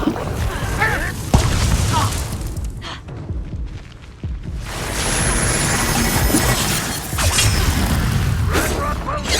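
A fiery Incendio spell cast in Hogwarts Legacy on Xbox Series X, with loud broadband blasts and booming bursts that come and go over several seconds, mixed with game noise and voices talking.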